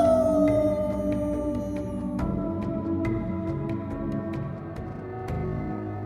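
A wolf-like creature howls in a film, a long eerie tone sliding downward over a dark, rumbling score, with sharp clicking accents scattered through it and no speech.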